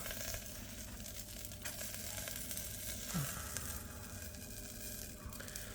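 Potatoes cooking on a grill over an open fire, a soft steady sizzle and crackle, faint and low with a brief scrape partway through.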